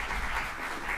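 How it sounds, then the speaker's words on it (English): Brief, soft burst of audience applause at a community launch meeting in St. Pete, an even wash of many clapping hands heard from a distance. "Give them a round of applause."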